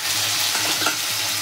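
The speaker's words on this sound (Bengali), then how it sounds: "এবার চিলি চিকেনের জন্য আমি শুকনো লঙ্কা ফোড়ন দিলাম, রসুন কুচি, আদা কুচি, পেঁয়াজ আর কাঁচা লঙ্কা কুচি" Dried chillies, chopped garlic, ginger, onion and green chilli sizzle steadily in hot oil in a pan for chilli chicken, a loud close continuous fry.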